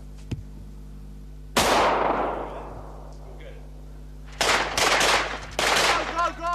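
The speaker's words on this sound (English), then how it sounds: "That's a good shot." Gunshots at a shooting range, one loud blast with a long ringing decay followed later by a rapid cluster of several more shots, loud and close.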